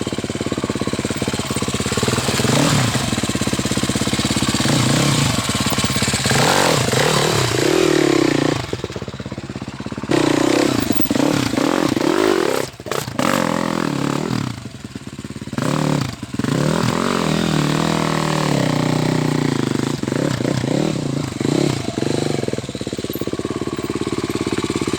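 An enduro dirt bike's engine runs loud and close throughout, revving and bogging with clattering bursts as the front tire strikes and struggles over a road obstacle, with brief drops in power midway.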